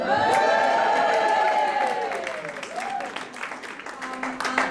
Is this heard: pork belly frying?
no